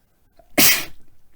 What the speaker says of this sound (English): I sneeze. Apologies for that.